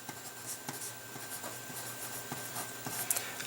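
A pen scratches out a math expression on a writing surface, with soft intermittent strokes and small taps close by, quiet and with no talking.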